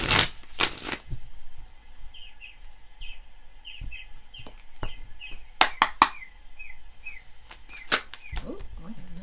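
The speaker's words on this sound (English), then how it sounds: "One more shuffle." Tarot cards being shuffled by hand, with a few loud riffles and scattered sharp snaps, while faint bird chirps repeat softly in the background.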